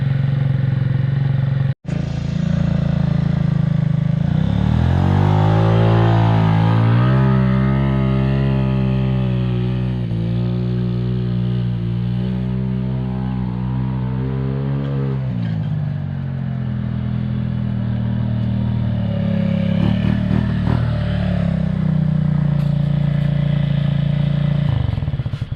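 A 50cc GY6 scooter engine idling warm, close and loud, a steady buzzing drone that swells briefly as it is revved and then settles back to a rough, even idle.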